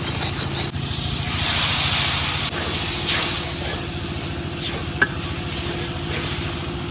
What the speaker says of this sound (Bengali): পেঁয়াজটা একটু ভাজে নিলাম। এখন দিয়ে দিতেছি শুকনো মরিচের গুঁড়া, ধনিয়া, হলুদ গুঁড়া, জিরার গুঁড়া অল্প,